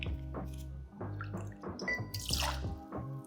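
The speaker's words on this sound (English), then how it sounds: "in a mixing glass, we're gonna pour 1 3/4 ounces" Rum is poured into a mixing glass in a quiet, close stream of drips and gurgles lasting a few seconds, with faint clinks of glass and no talking.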